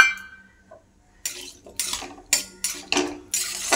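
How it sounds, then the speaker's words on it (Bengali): Potato pieces dropped into hot oil in a kadai over low heat, giving a string of sharp sizzling bursts with metallic clatter from a spoon against the pan, close and fairly loud. "লো হিটে আলুটা দিয়ে দিলাম"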